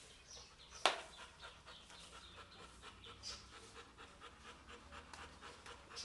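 A dog pants steadily in quick, rhythmic breaths, close by, with a sharp brief noise near the start and faint chirps in the background.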